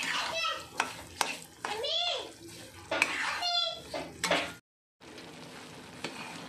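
Semolina with dry fruits stirred and sizzling in a pan while banana is added, a close, irregular scraping and frying hiss with short clinks, pausing briefly before the sizzle resumes; a voice speaks faintly in the background.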